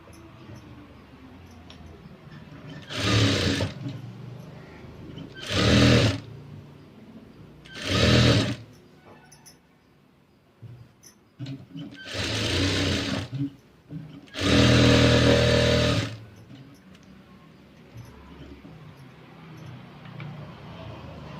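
A sewing machine stitching a princess-cut blouse runs in five separate bursts of a few seconds each, loud and close, with quiet pauses between runs.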